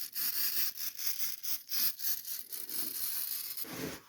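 A scribe scrapes and picks at a stuck base gasket on the cylinder of a 2000 Buell M2 motorcycle, making close, harsh, continuous rasping strokes in an uneven rhythm, with a louder scrape near the end.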